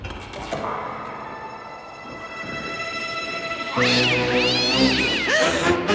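A cat meows loudly and close, a long wavering cry near the end, after a quieter drawn-out tone and background rumble.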